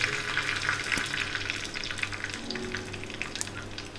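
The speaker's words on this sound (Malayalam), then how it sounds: "കടുക് പൊട്ടുമ്പോൾ വേപ്പിലയും കൂടി ഇട്ട്" Mustard seeds and curry leaves sputter and crackle in hot coconut oil for a Kerala cucumber moru curry, with a steady close sizzle and scattered sharp pops throughout, no voices.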